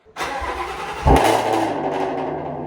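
A car engine cranks briefly, then catches with a loud burst and settles into a steady, rumbling idle close by.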